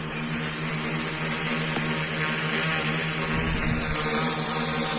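A homemade GPS drone hovers and flies, giving a continuous, even propeller whine and buzz that holds steady and fairly close throughout, with no talking.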